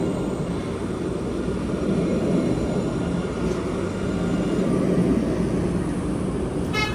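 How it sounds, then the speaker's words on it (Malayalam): A tram pulls in at a stop in Jerusalem, a steady rolling rumble and hum holding close and loud throughout, with a faint metallic rattle near the end and no talking. "അതാ നമ്മുടെ ട്രാം വന്നിരിക്കുകയാണ്."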